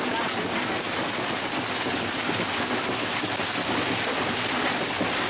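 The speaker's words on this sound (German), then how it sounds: "Dann kam zuerst tröpfchenweise langsam der Regen. Es hat gedonnert und auch geblitzt." Steady rain pours down throughout a thunderstorm that later brings hail, a dense continuous hiss of drops on surfaces, loud and close, with no distinct thunderclap standing out.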